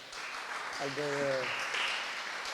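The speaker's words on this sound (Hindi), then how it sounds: "ज़ोरदार तालियां होनी चाहिए जैनी के लिए और साइमा के लिए" Applause from a congregation at a Friday prayer meeting of an Asian fellowship church, a steady patter of clapping over about two and a half seconds with a voice sounding through it.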